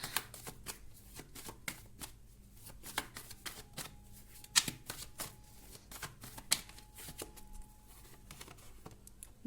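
Tarot cards are shuffled in quick, crisp riffles and taps, with short bursts of card clatter at close range and quiet gaps between them, with no talk.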